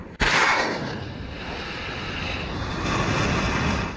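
Tomahawk cruise missiles launch from the US warships Porter and Ross in the Mediterranean: a sudden sharp blast gives way to a loud, sustained rushing roar that holds steady and swells slightly toward the end.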